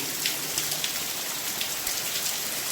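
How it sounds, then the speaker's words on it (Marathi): Heavy rain falls steadily during a trek to Rajmachi fort, a dense continuous hiss of drops on surfaces at constant loudness with no voices. "पाऊस उघड्याचं काही नाव घेत नाही आहे"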